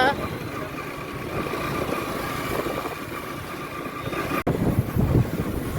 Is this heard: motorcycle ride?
yes